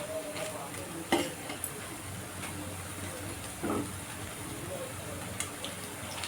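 Banana flower chops (mochar chop) fry in oil in a pan over a gas flame turned up high. A soft, steady sizzle and hiss runs throughout, with a few faint clicks from stirring.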